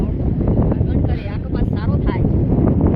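Wind buffets the microphone in an open farm field where chicken manure is being loaded into a tractor, a loud continuous rumbling roar with a voice talking over it.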